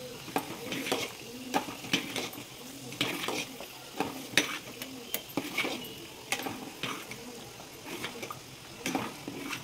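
A spoon stirs jaggery and nuts through hot ghee in a pan, giving repeated scraping strokes against the metal over a soft, continuous sizzle, close and steady.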